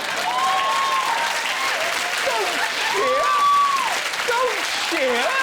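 A studio audience cheers and applauds on a comedy news show, a steady wash of clapping with whoops rising above it, while someone speaks over the crowd throughout.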